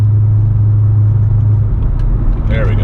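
A Race Proven Motorsports-modified Corvette idles with its exhaust switched to quiet mode by remote, giving a steady, close, low rumble throughout, with someone speaking briefly over it.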